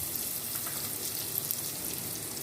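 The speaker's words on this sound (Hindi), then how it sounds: "बस हम इसको इतना भूनेंगे, तो इसको हम डालेंगे इलायची और दालचीनी" Cardamom and cinnamon fry in a pan for sheer kurma, giving a steady soft crackling sizzle, fairly faint and even throughout with no talking.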